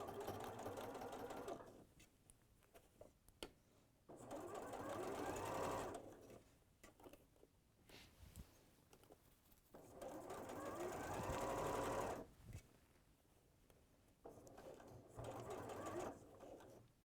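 A sewing machine runs in bursts of rapid mechanical stitching, stopping and starting several times, close by, with quiet pauses between runs.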